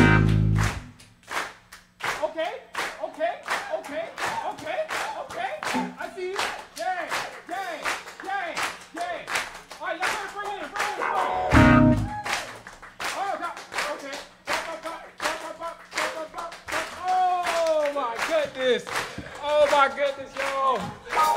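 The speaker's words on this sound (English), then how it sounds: "they gonna keep clapping" A live New Orleans music audience claps a rhythmic solo with the band stopped, a dense run of sharp, steady claps with voices calling and singing over them and a louder burst midway.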